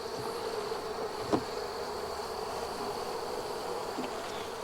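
Honey bees from a caught swarm droning steadily inside their hive, a continuous close buzz with a faint thump partway through.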